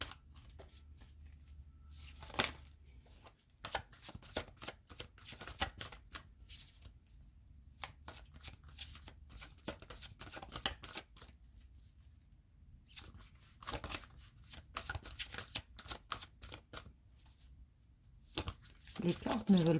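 Oracle cards shuffled by hand in repeated quick riffling bursts with short pauses between them, close and crisp against a quiet room.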